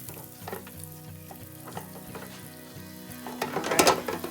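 Pork steak sizzles steadily in a hot pan, with occasional scraping and light clinks of a utensil growing louder toward the end.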